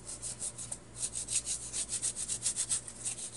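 A cloth rag wipes excess paint off cardboard in quick back-and-forth strokes, a soft rhythmic scrubbing, close and fairly quiet with no voices.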